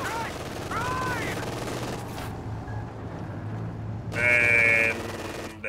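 Machine gun fire from a 221 armored car shooting at a sniper in Company of Heroes 2, sustained rattling bursts amid battlefield noise, with a louder burst near the end.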